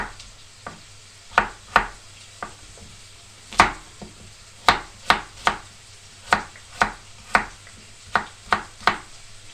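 A knife chops zucchini into half-moon slices on a cutting board, about fifteen sharp, clear knocks in an uneven rhythm. Each knock stands out plainly over a low background hum.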